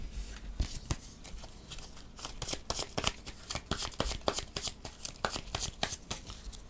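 Playing cards are shuffled close up, a rapid riffling burst of crisp flicks and snaps repeating for several seconds.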